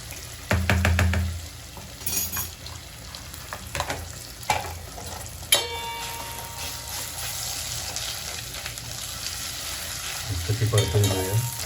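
Onion and ginger-garlic paste sauté in hot oil, sizzling and crackling close up, with clanks and scrapes from a spoon stirring the pan, louder bursts at the start and end, and no voices.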